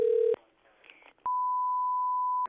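A telephone call to a silver dealer's shop: a short beep, a pause, then one long steady ringback tone sounds alone, clear and even.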